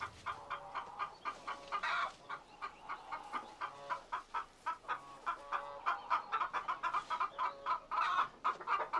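Farm hens brooding on about ten eggs in nesting boxes cluck repeatedly in short, busy bursts, several birds overlapping at moderate distance with no voices.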